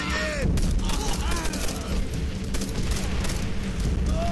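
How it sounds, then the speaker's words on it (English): Loud, dense battle in Call of Duty: World at War, with rapid bursts of gunfire and heavy grenade explosions layered under shouting and chatter, continuous and chaotic throughout. "Focus on the hill! Grenade, fucking grenade."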